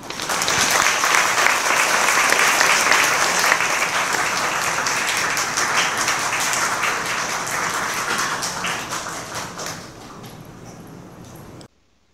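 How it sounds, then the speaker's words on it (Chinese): A graduation ceremony audience applauds warmly, dense continuous clapping filling a large hall for about ten seconds before thinning and cutting off abruptly. "现在，请以热烈掌声欢迎李苑哲院长为我们进行专题演讲"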